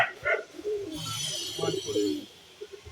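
Pair of pigeons cooing in soft, low repeated phrases close by, with voices talking over and around the calls and a steady higher hiss running through the middle of the clip.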